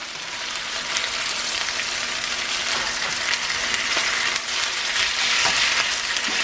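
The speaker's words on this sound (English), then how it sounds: "I like flipping my meat every 2 to 3 minutes to make sure it's getting cooked real well" Gochujang chicken pieces frying in a pan, a steady close sizzle with scattered pops and crackles throughout, fairly loud with no voice over it.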